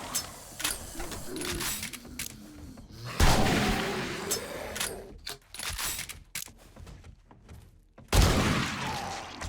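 Two sharp gunshots from a video game crack out a few seconds apart, loud broadband bursts over a steady bed of game ambience and mechanical clatter.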